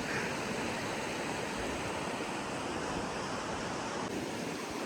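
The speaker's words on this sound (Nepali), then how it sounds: "अरुण नदी" The Arun river flows steadily, giving a dense, continuous rushing wash of water noise with no voices.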